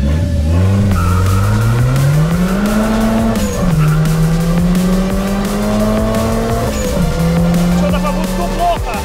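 A turbocharged Daewoo Matiz tuned to about 200 hp, run with the muffler and turbo intake pipe removed, accelerates hard with a loud, raw rising engine howl and tire squeal, close up and continuous.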